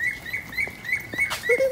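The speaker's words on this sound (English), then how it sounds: "Oh, that's a bird. That's a normal bird." Outdoors, a bird repeats short, bright chirps at a steady rhythm, with a brief rustling burst partway through and a lower two-note call at the end.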